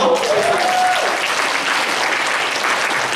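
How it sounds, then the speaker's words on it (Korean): A church congregation at a Sunday youth service in Auckland bursts into applause, starting loud and settling into steady even clapping, with a brief vocal tone near the start. "박수 한번 주나요?"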